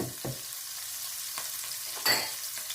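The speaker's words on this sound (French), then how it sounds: "on va le faire cuire avec les oignons" Tomato paste cooks with onions in a pan for a Senegalese chili sauce, a low steady sizzle broken by a few soft stirring scrapes and one brighter clatter near the end.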